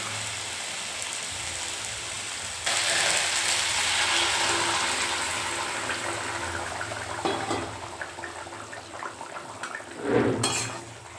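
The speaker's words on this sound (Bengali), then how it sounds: "এখন এর মধ্যে আমি দিয়ে দেবো গরম জল" Hot water being poured into a pan of spiced potatoes that were sautéed with masala, a steady close hiss and rush with some clinks of the pan, swelling at the end.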